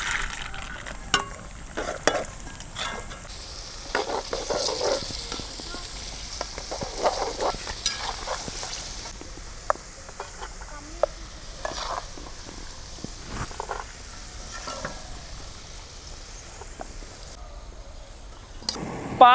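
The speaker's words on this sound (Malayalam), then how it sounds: "നമ്മൾ നെയ്യിലാണ് വറുത്തെടുക്കുന്നത് മുഴുവൻ." Cashews, raisins and almonds frying in hot ghee in a pan, a steady close sizzle with bursts of crackle and occasional stirring scrapes throughout, no talk.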